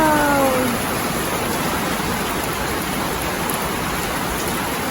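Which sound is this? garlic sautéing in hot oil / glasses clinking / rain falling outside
rain falling outside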